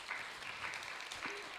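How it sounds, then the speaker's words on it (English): Applause rings out from an audience at the ISKCON Dallas temple, a faint, distant, continuous patter of many hands clapping with no speech over it. "very, very big applause as well"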